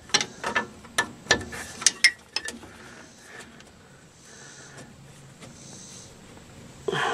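A wrench works a dirt-caked brake tubing fitting during a drum brake overhaul on a '94 Chevy. A quick series of sharp ratcheting clicks comes up close, then the sound drops to near quiet with faint handling noise.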